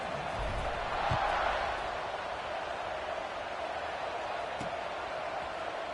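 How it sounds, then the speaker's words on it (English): A football stadium crowd buzzes after a score that gives the team a 9-point lead, a steady, dense, distant roar with a couple of faint thumps and no distinct voices. "this crowd is buzzing after that last score"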